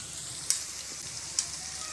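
Onions fry in a pan with a soft, steady sizzle, two sharp metallic clicks of a utensil standing out briefly over the hiss.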